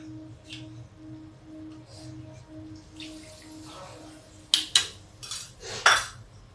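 A washed steel bowl and utensils clink and clatter in a home kitchen while Muli ka saag cooks on the stove. A few sharp metallic knocks and scrapes stand out over a faint steady hum.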